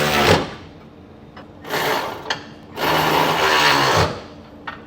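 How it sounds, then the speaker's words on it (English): Socket wrench with a 3/4 inch socket snugging bolts on B&W Companion 5th wheel hitch hardware in a 2023 Chevrolet, giving three bursts of rapid close ratcheting separated by short pauses, with small metallic clicks between. "So I have a 3/4 inch socket and wrench."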